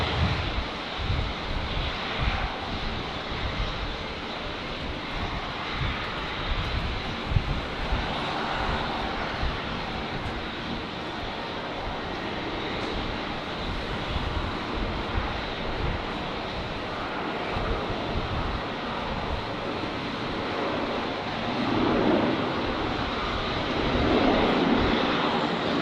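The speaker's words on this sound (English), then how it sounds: "Unity 4825, runway 19 right, clear for takeoff" A jet airliner rolls for takeoff on runway 19 right at windy Brisbane Airport, a continuous broad engine roar that stays steady and builds slightly toward the end, with gusty wind noise throughout.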